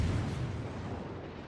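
A warship's forward guns fire in the World of Warships naval battle game, one loud booming salvo that rolls off and decays over a second and a half, heard alone.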